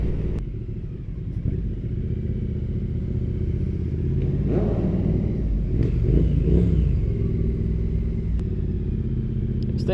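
A Triumph Street Twin, a five-speed motorcycle, ridden on slippery wet roads, its engine a steady low rumble with some mid-range whoosh and road noise, continuous and close throughout.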